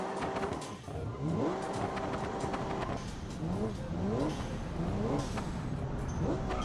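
A driving game's car engine revs up and down as a throttle pedal is pressed, several rising whines repeating in quick bursts, fairly close and steady, with a voice speaking over parts of it.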